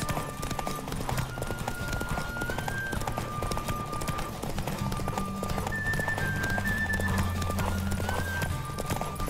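Horse hooves gallop at a fast, steady clip-clop beneath music in The Witcher video game race, joined by a brief whinny, loud and close throughout.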